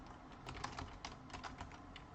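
Quick, light clicks of typing on a computer keyboard, a fairly even run of keystrokes heard up close at low volume with no talking.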